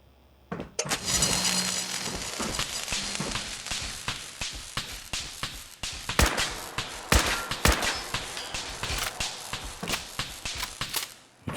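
Gunfire in Fallout 4 rings out as a rapid string of sharp, loud shots, some in quick bursts, over a constant rumbling game soundscape, with no voices.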